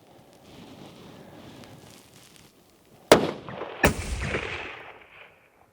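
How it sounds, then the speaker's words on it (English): A long-range rifle fires two loud, sharp cracks less than a second apart outdoors, each trailing into a rumbling decay after quiet background noise. "Hey, that gun shoots nice though."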